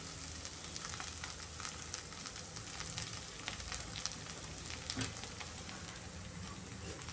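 Soaked poha being mixed into fried onions in a hot pan, giving a soft, continuous frying hiss with faint stirring scrapes throughout, fairly quiet and with no voices.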